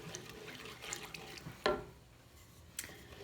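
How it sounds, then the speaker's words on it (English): Chicken broth poured into a skillet of flour mixture for chicken pot pie, a faint liquid pour with a couple of brief splashy clinks, quiet and close. "so now I'm going to add 3 cups of chicken broth"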